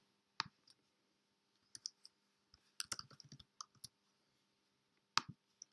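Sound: computer mouse clicking in a spreadsheet

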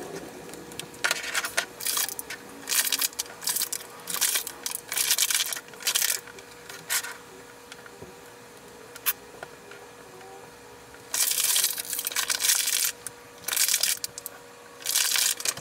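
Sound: unpacking Shopkins toys from their packaging

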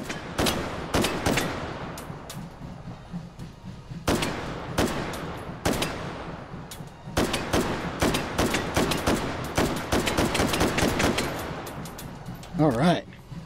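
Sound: gunfire in Hot Dogs, Horseshoes & Hand Grenades VR game

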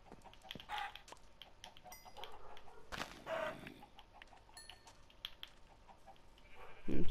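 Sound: chickens clucking in Minecraft video game

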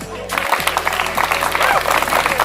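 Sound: applause at a company anniversary picnic

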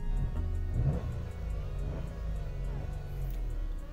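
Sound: car engine revving in neutral, manual car

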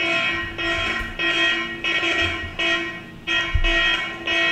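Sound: anti-theft phone app alarm ringing

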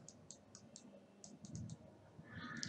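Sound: computer mouse right-click on the desktop

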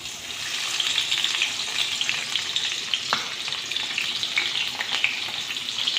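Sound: onions frying in hot oil

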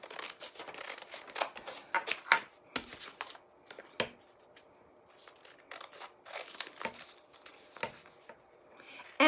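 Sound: scissors cutting out paper letters

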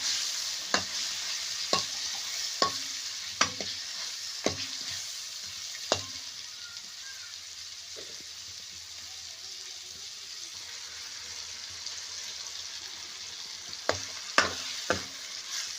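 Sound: bitter gourd being stirred in hot oil

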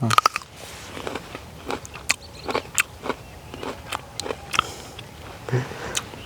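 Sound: biting into a ripe kul (jujube) fruit

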